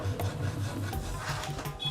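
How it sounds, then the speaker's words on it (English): Wood being filed and carved by hand for a tanpura, a steady rasping scrape with repeated strokes and a low rumble underneath, close and continuous without speech. "They take their time crafting the wood, sawing, carving, and filing it down."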